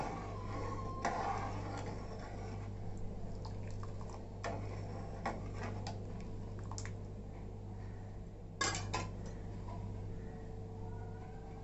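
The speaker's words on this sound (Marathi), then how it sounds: "हे आपण थोडं ढवळून घेऊया।" Sugar is stirred into rice and coconut kheer in a pot, giving faint scraping and soft wet squishes with a few sharp clinks against a steady low hum.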